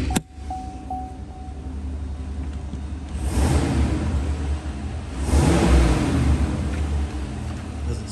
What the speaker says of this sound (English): Not overly loud, but nice aggressive tones coming from that dual exhaust.